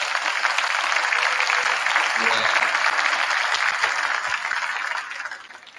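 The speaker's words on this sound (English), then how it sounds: "Give yourselves a round of applause for that." Sustained crowd applause in a gym, dense and loud, with cheering mixed in, tapering off in the final moment.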